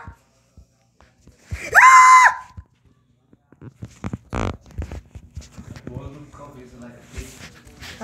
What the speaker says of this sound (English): Okay, I need to stop screaming.